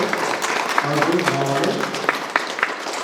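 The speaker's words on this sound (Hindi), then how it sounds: "चलिए ताली बजा दीजिए।" A gathering at a funeral mass in Karanjtoli, Katkahi parish, breaks into steady clapping that carries on for a few seconds, with a voice speaking over it.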